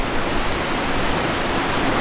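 A waterfall in Western Nusa Penida, Bali, heard as a steady, dense roar of rushing water that fills the whole clip, loud and close, with no voices.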